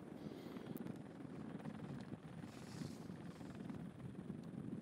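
A helicopter filming Stage 4 of the 2019 NZ Cycle Classic road race gives off a steady, throbbing rotor drone, continuous and fairly faint, mixed with some wind noise.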